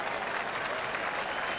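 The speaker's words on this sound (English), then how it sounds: "The applause indicates it's another goal." A crowd applauds a goal at an Australian rules football match between Sturt and Central in 2000, a steady, even wash of distant clapping and cheering that lasts throughout.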